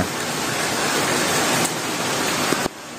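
Steady, heavy morning rain pours down in Palani, India, with a dense, continuous hiss, loud and close, with no voices.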